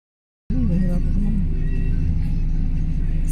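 Steady low engine rumble and road noise fill the cabin of a moving car on a family road trip at Christmas. The sound starts abruptly and holds constant and close, with a voice briefly heard under it.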